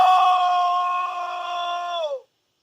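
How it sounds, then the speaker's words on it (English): A single sustained, piercing scream from the game Plants vs. Zombies, following a crunching noise, held for about two seconds, then dropping off abruptly into silence. "we hear a disturbing crunching noise followed by a blood-curdling scream"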